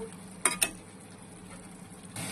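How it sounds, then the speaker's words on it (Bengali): A spice paste with turmeric, salt and ghee fries in a pan for a prawn malai curry, giving a low, steady sizzle broken by two sharp metallic clinks early on and a louder burst of frying near the end. "এগুলো দিয়ে ভালো করে আবার মশলাটা ভেজে দিতে হবে।"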